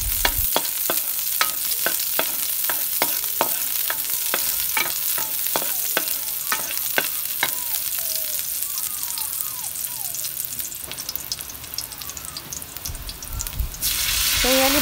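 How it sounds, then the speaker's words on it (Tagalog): Onions sautéing in a small home-kitchen pan: a steady sizzling hiss runs throughout, with a quick run of sharp utensil taps against the pan early on and a faint pop near the end. "Umpisahan na natin ang paggisa ng sibuyas."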